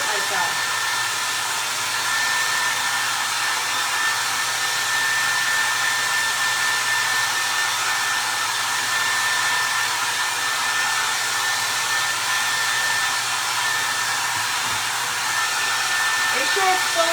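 A hair dryer blows continuously on a cheesebox craft project, a steady close whirring hiss with a constant high whine that runs unbroken and alone throughout.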